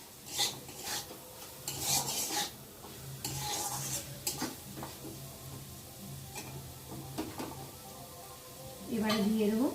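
A spatula scrapes and stirs fried potatoes seasoned with salt and turmeric in a pan, giving rasping, irregular strokes close by. A voice talks over parts of it.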